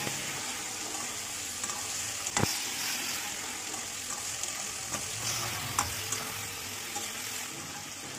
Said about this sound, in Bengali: এরকমভাবে কেটে রাখা আলুগুলো দিয়ে ভাজা করে নিতে হবে